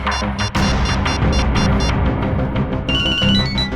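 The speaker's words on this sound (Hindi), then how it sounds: "ये क्या सर, मेरे फोन करने पर अलग तरह की रिंग बजी?" A distinctive ringtone on a phone, loud and continuous with rapid repeating electronic pulses and a bright tonal warble that shifts higher near the end, with no talking over it.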